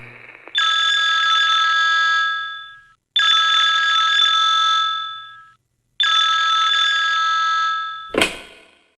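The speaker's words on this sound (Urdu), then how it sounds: "جب مجھے فون کی گھنٹی بجتی ہوئی محسوس ہوئی۔" A telephone bell rings on a quiet, dark winter night: three loud, sustained electronic rings, each about two seconds long with short gaps, ending in a sharp click as the receiver is picked up.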